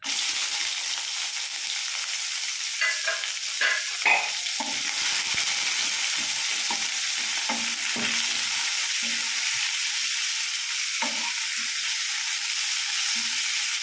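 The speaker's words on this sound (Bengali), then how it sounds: "পেঁয়াজটাকে আমি একটু হালকা করে ভেজে নেব" Chopped onions fry in oil with a bay leaf, a dried red chilli and cumin seeds, giving a constant close sizzle punctuated by spatula scrapes and stirring knocks, with no talking.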